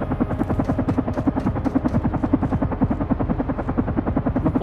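A helicopter in the video game Carrion, its rotor pulsing in a fast, steady chop that stays loud and close throughout, with no voices over it.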